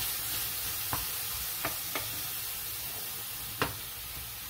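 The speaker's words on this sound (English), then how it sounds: "I'm supposed to saute the ground beef, the onion, and the peppers until brown" Ground beef, onion and red and green peppers sauteing in a pan, a soft steady sizzle with a few sharp stirring clicks and taps against the pan.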